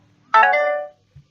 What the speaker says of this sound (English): That is my phone.